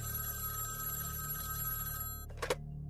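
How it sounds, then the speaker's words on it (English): A telephone rings in an apartment as one short, loud burst over a steady electrical hum, then cuts off. "the phone rings"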